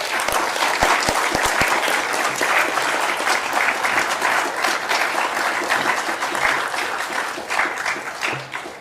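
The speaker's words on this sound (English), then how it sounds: "Shall we give a round of applause for our winner?" Sustained applause from an auditorium audience for an award winner at a journalism award ceremony, many hands clapping loudly and continuously, with a few sharp individual claps standing out near the start.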